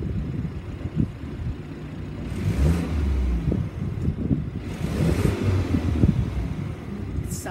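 A BMW 330e plug-in hybrid revved while stationary, the engine humming steadily then swelling in two distinct rev rises with a throaty mid-range roar, heard close and without talk.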